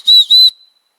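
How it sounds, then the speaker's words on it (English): Two short, piercing blasts on an emergency whistle for hikers, loud and close, the second trailing off quickly into silence. "We got an emergency whistle, which will be great for us to signal each other if we get split up."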